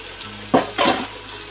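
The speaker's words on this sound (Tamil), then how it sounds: "இப்போ நான் ஆனியன் ஆட் பண்ணிட்டேன். இது நல்லா கோல்டன் ப்ரௌனாக வதங்கணும்." Onions being sautéed in a pan until golden brown for chicken biryani, with two short stirring scrapes and sizzle bursts over a low background hiss, close by.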